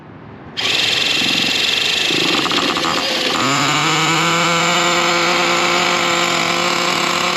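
A worn Traxxas T-Maxx nitro RC truck engine bursts into a loud, high, buzzing whine after a quiet start, revving unevenly and then settling into a steady screaming idle close by.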